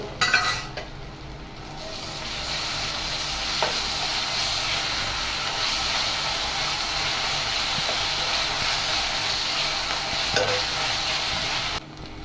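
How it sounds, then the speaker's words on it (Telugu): Ginger paste fries with onions in a pan while cooking a dried prawn and egg curry, giving a steady, continuous sizzle and hiss with occasional soft stirring clicks, close and even in loudness. "ఒక స్పూన్ అల్లం పేస్ట్ వేసుకుని ఇది కూడా పచ్చి వాసన పోయే వరకు వేయించుకోవాలి"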